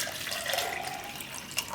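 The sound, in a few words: water poured into spiced yogurt mixture for vaghareli rotli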